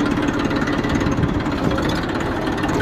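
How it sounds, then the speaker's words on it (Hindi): A new model 1035 tractor engine runs steadily at close range, giving a loud, continuous low rumble with a rough, knocking texture and no talk over it. "अभी हम ट्रैक्टर लेके जा रहे हैं"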